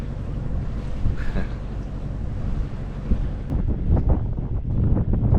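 A boat engine drones low and steady under rushing wind and water noise, leaving Norway at sea, with choppy splashes picking up toward the end.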